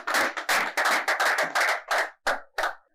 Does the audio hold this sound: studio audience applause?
yes